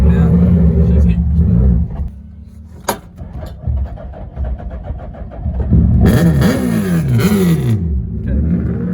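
A car powered by a motorcycle engine accelerating hard on a road test while running poorly on the throttle, engine note rising and falling in revving sweeps, loud and close, with people talking inside over it.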